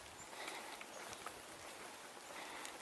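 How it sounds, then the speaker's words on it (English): Light rain begins to patter outdoors, a faint, steady hiss of scattered drops with occasional soft taps, no voices over it. "Might be starting to rain a little bit again."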